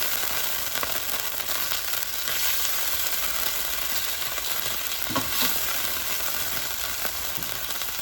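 Oil-coated steak frying in a pan, a steady broadband sizzle that carries on the whole time with a few brief pops and crackles, close and even, with no voices.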